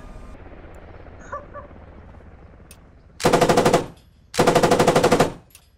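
Automatic gunfire in the military shooter Squad, heard as two loud sustained bursts of rapid shots, each lasting about a second, separated by a short pause, after a quiet stretch.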